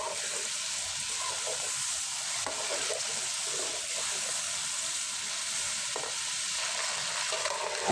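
Chicken frying with salt in a pan for karahi, a steady close sizzle with stirring scrapes and soft bubbling throughout, no talk.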